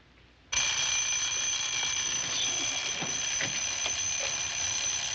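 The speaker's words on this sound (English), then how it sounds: "an alarm that sounds like Big Ben that can't be turned off" An alarm clock suddenly starts ringing, a loud, continuous high-pitched metallic bell that keeps going without pause.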